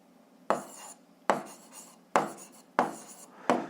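Pen strokes on paper while an algebra word problem is written out, five distinct scratchy bursts in an uneven rhythm, close and clear with no talking.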